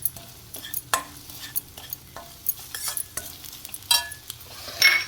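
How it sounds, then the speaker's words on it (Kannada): Ingredients frying in hot oil in a pan while being stirred, with a faint sizzle under irregular scraping and clinking of a spoon against the pot, close and fairly quiet. "ನೋಡಿ, ಚೆನ್ನಾಗಿ ಎಣ್ಣೆಯಲ್ಲಿ ಹುರಿದಂಗೆ ಆಗಬೇಕಿದು."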